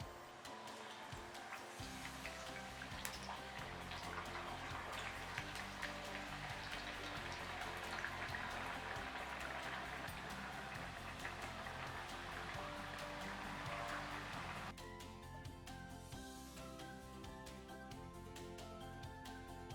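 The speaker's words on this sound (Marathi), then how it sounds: "आता आपण हे सुरणाचे काप तळून घेऊया" Slices of elephant foot yam fry in hot oil, giving a steady, faint crackling sizzle with fine ticking pops that continues without pause.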